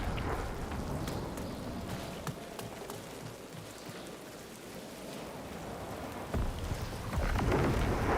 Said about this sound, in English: Oh, is that just the lightning? Is that what all that sound is?